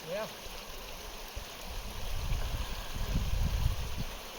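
Creek water flowing around a camper sitting in the stream, a low steady gurgling trickle that swells slightly in the second half, with a brief voice-like sound at the very start.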